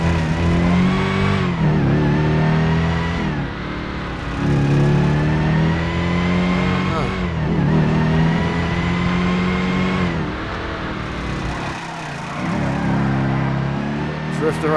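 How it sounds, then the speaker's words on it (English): A 392 Jeep engine in the video game GTA 5 revs repeatedly in surging pulls, rising and falling in pitch, loud and close, with someone talking over it. "It's probably my new favorite engine sound"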